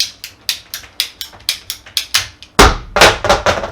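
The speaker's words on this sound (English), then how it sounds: "I'm using the ratcheting PVC cutter" A ratcheting PVC cutter clicks in a quick steady rhythm as it closes on PVC pipe, then gives a few louder crunching snaps as the blade bites through, close and loud with no talking.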